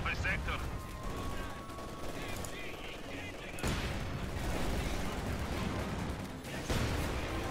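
An MG42 machine gun lays down suppressing fire during a Company of Heroes 2 battle, with rapid gunfire bursts, booming artillery and explosions in a busy war mix and a commentator talking over it.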